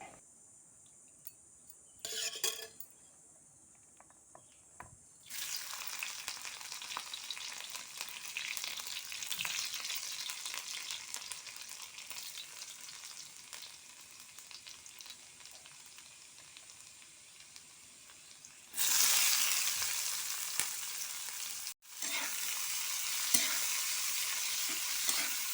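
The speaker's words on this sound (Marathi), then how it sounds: "त्या तव्यामध्येच मी भाजी करून घेणार आहे." Onion and tomato vegetable curry sizzles and fries in a deep iron griddle pan, with a steady crackling hiss, scraping stirring sounds, and louder sizzling bursts as ingredients are added.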